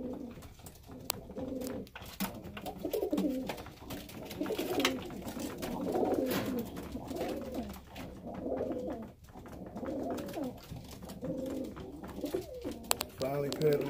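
Pigeons or doves of a breeding pair coo repeatedly in their pen, soft rhythmic calls rising and falling throughout, with faint background noise.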